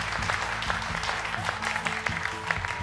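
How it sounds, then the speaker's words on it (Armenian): Audience applause following a duet performance in a televised singing competition battle round, dense clapping that carries on steadily, with some louder individual claps and faint musical tones beneath. "այս ծափարությունները ձեր վաստակած արտիստի ծափարություններն են"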